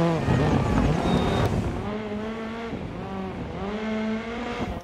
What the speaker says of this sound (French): Je vous laisse profiter du son de la voiture